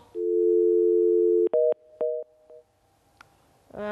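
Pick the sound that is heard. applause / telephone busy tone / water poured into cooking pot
telephone busy tone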